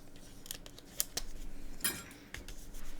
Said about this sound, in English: let's cut out the calendar again